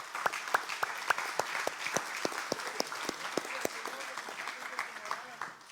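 A church congregation claps together in a fast, steady rhythm, a sharp run of hand claps that holds close and lively before trailing off at the end.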